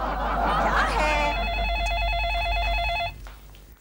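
A telephone rings at home on a noisy Sunday, a repeating warbling electronic ring that sounds for about two seconds over a low steady hum, then stops; earlier a voice is heard.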